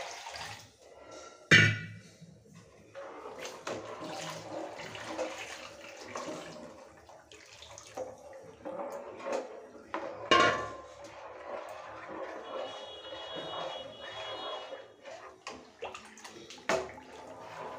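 Water is poured into a pot of besan kadhi, a gram-flour and buttermilk curry, making a sustained splashing, gushing flow with a few sharp clinks from the pot.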